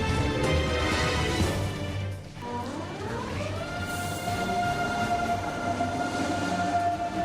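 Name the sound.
Deutsche Bahn ICE 3 high-speed train passing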